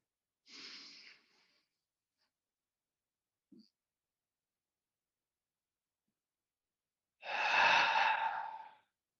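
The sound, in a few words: breathing in and out during yoga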